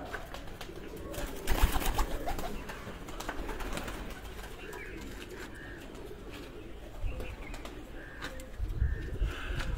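A France breed pigeon coos softly and repeatedly at close range, with faint rustling and other birds in the background.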